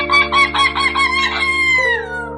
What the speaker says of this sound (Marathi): कोंबड्या आहेत.